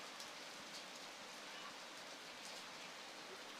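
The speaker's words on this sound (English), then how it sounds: "as the rain is now steady at the Montego Bay Sports Complex" Steady rain falls on the Montego Bay Sports Complex during a Haiti versus Martinique football match, an even, unbroken hiss with faint scattered drops and no voices on top.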